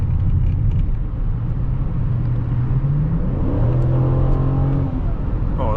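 A 2005 Chrysler 300C with the 5.7-litre Hemi V8 accelerating from inside the cabin, engine note rising steadily through the gear, then dropping after a shift and climbing again under a continuous road rumble.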